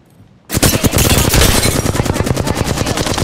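In Apex Legends, a burst of rapid automatic gunfire starts sharply after a short silence, then continues as loud, even rattling shots.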